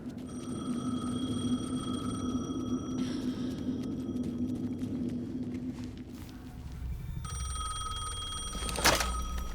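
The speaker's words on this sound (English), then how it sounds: "The phone again." A telephone rings in the video game Alan Wake 2, a steady electronic trill repeating over low ambient rumble and footsteps, fairly loud throughout and briefly interrupted partway through, with no speech.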